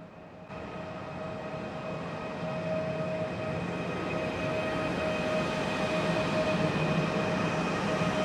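A bullet train running between Samarkand and Tashkent rolls into the station with a steady, loud rumble and a sustained tonal whine that builds slightly and holds throughout, heard close with no talk.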